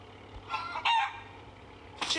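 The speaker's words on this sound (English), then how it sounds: "Chickens." A rooster-like crow and clucking calls from chickens, two short bursts close by, separated by a brief lull with faint background noise.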